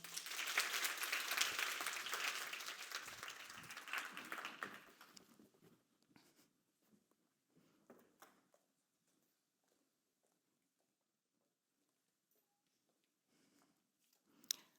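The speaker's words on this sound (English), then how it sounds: "Everyone, please give a big round of applause for Dr. Carole Ackermann." A crowd applauds loudly for several seconds, then the clapping fades into scattered claps and quiet room noise.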